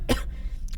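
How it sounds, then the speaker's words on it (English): A single short cough bursts out near the start from someone narrating a horror game, followed by quiet background. "Sorry, I'm coughing again."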